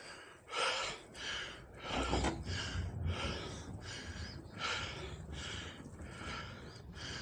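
Heavy, labored breathing close by from a skater with allergies, a series of rough gasping inhales and exhales repeating steadily with no talking.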